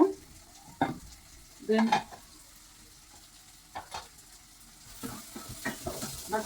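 Onions fry in a pan at low level, with a soft background sizzle broken by several short stirring scrapes; a voice speaks once briefly.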